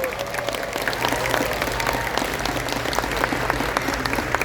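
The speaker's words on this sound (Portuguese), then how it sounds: "salva de palmas" An audience at an anime convention launch event claps in a dense, sustained round of applause, loud and close, with no speech over it.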